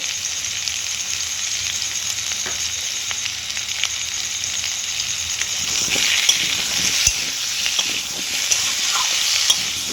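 Pointed gourd and pumpkin cooked with turmeric, Kashmiri chili powder and ginger paste in a pan, an even close sizzle with light intermittent scrapes of stirring.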